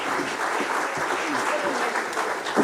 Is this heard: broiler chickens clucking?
no